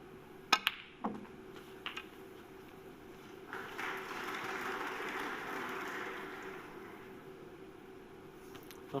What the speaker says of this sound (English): Smattering of fake applause just means the frame is won behind snookers.